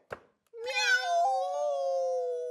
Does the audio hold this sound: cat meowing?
yes